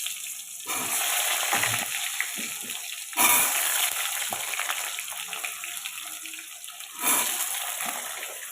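Cut potatoes frying in oil in a wok, a loud, continuous crackling sizzle that swells sharply twice, heard alone without talk.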